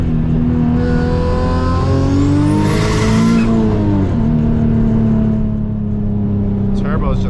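Turbocharged Nissan 350Z engine droning steadily while driving, its harmonics rising and falling through throttle changes with a high turbo whine swelling mid-way, loud and close throughout.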